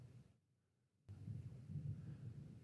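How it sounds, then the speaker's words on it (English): Distant thunder rumbling on a cold day, a low, faint rolling growl that cuts out briefly and then returns with more weight, heard without talk. "That was thunder."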